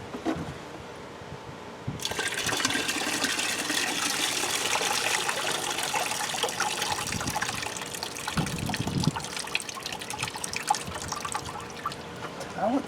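Water suddenly starts spraying inside a 2006 Toyota Tundra's interior with a loud, steady hiss that continues throughout, with brief splashing bursts near the middle.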